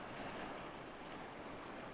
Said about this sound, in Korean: 파도가 바위를 완전히 집어삼키자